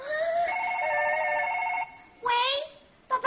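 A mobile phone rings in a comedy sketch about an unbreakable handset, giving a bright, steady electronic tone that stops, then a second short burst and the start of a third, loud and close.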